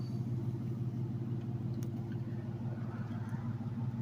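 Steady low engine rumble from a 2006-2010 Dodge Charger with a 3.5 V6 and K&N cold air intake cruising on the road, an even drone heard from inside the car with no voices.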